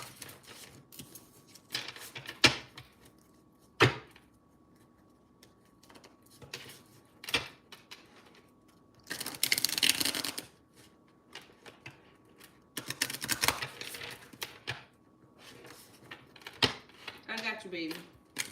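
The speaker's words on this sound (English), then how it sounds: "Let me shuffle these real quick." Tarot cards being shuffled by hand in bursts of riffling and slapping, close and fairly loud, with pauses and light tapping between the bursts and a voice talking at times.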